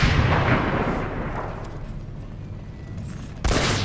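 Grenade and rocket blasts in a multiplayer shooter video game: a heavy boom opens, rumbles and fades away, then a second sharp explosion bursts in near the end.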